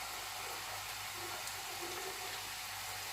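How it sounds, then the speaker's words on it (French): Honeycomb honey pastries fry in hot oil over low heat, giving a steady, dense sizzling hiss that carries evenly throughout without any voices. "vous commencez à mettre vos pâtisseries dans l'huile"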